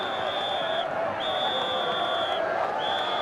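A large cricket crowd at Lord's during the NatWest Trophy final between Somerset and Kent, heard as a steady, dense roar of cheering and chatter, with a high whistle-like tone recurring over it.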